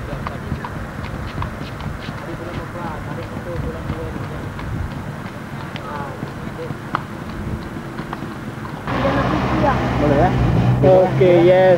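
Horse hooves clip-clop at a riding club where children are learning to ride, a steady rhythmic clatter heard close by, with people talking over it and the scene growing louder near the end.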